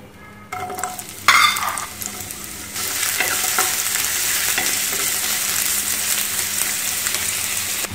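Onions dropped into hot oil for a kidney bean paratha: a sudden burst of loud crackling, then a dense, steady sizzle with occasional stirring scrapes, close and continuous.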